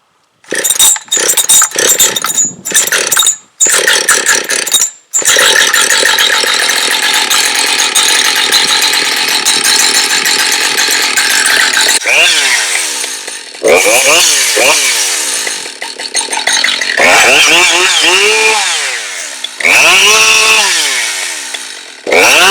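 A new Husqvarna 572 XP chainsaw is pull-started with sharp cord pulls, then it catches and runs loudly at a steady high idle, with several revs up and down near the end, close and with no talk.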